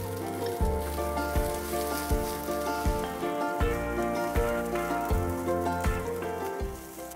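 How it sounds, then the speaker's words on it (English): Shimeji mushrooms sautéing in a pan, a bright crackling sizzle with repeated rhythmic stirring scrapes every second or so, close up with no voices. "Shimeji mushrooms. saute for about a minute."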